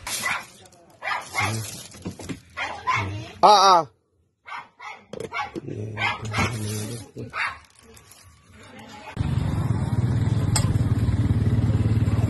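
Stray dogs at a feeding in an evacuation area bark and yip in short bursts mixed with people talking nearby; toward the end a steadier broadband clamour of excited dogs and crowd noise takes over.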